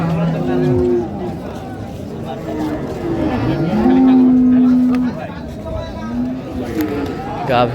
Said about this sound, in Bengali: গাভী